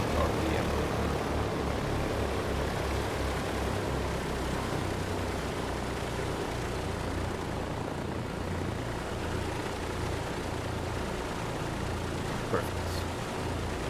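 Twin radial engines of a Douglas DC-3 in MSFS 2020 drone steadily at 1000 RPM, a continuous loud propeller hum with a pulsing low throb, while a voice talks over it throughout.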